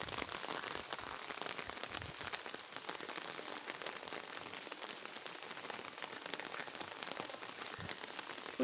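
Heavy rain pours onto a rooftop terrace garden in a village, a steady close hiss of countless drops pattering on surfaces without pause, with no talking.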